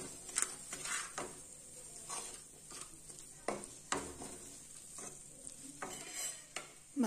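Salt and red chilli being stirred in a frying pan for veg pasta: repeated scraping strokes of a spoon over a steady, soft sizzle, close and fairly quiet, with no talking.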